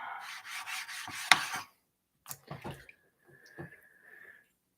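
A knife sharpening stone is rubbed flat, with a steady rhythmic gritty scraping for over a second, then a few short scrapes and taps, close and fairly quiet.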